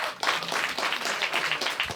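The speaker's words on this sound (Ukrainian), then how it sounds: "вже тут давайте ваші оплески" An audience claps at a stand-up comedy show in Lviv, a brisk, dense burst of many hands close by, lasting about two seconds with no talk over it.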